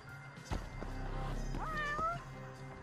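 A cat in the video game Judgment lets out a short, bright meow partway through, close and distinct above low game background noise and thumps, with no talking.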